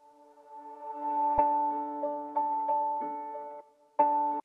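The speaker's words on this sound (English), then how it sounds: "We have this reverse piano going into the normal piano." Piano chords made in FL Studio, with a reversed piano sample swelling up into normally played notes: several clear chord hits, each fading out, then a swell that builds and cuts off abruptly at the end, quiet and without voices.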